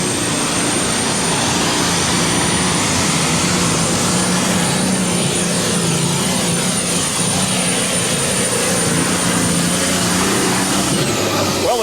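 A John Deere super stock pulling tractor with four turbos roars loudly and continuously, a dense turbine-like whine and rumble sustained throughout at a tractor pull in Chapel Hill, Tennessee.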